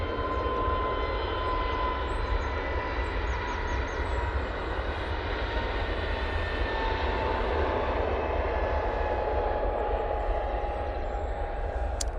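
An EasyJet airliner on its takeoff roll at Manchester Airport, a loud, steady broadband engine roar with a sustained whine that holds for the whole stretch, close and without talk.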